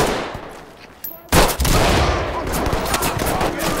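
Gunfire in the tactical shooter video game Ready or Not, a sudden loud burst after a quieter lead-in, then sustained rapid firing that stays loud and dense to the end.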